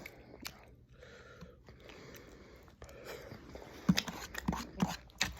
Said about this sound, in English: I be chewing my food